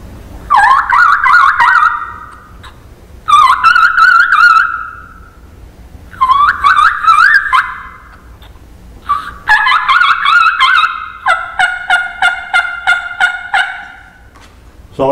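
A diaphragm mouth call imitates a young wild turkey, delivering loud, close, high-pitched whistling kee-kee notes in bursts, ending in a rapid series of short yelps.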